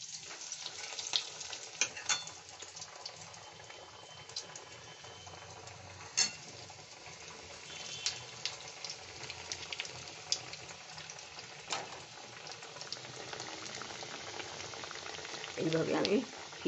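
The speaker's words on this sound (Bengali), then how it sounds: "এইভাবে আমি সবগুলো ভেজে নিচ্ছি" Egg kabiraji cutlets fry in hot oil with a steady, crackling sizzle. Scattered pops and clicks run through it, and a louder bubbling burst comes near the end.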